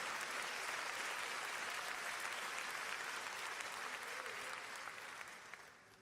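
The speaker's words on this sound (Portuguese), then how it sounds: "Aplauda com força." A church congregation applauding during a Sunday service: dense, steady clapping from many hands that sustains evenly, then gradually thins and fades toward the end.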